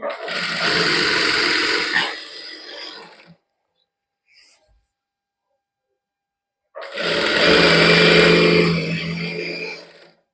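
A sewing machine stitching a straight salwar runs in two steady, loud, buzzing bursts of about two and three seconds, separated by a few seconds of near silence; no talking.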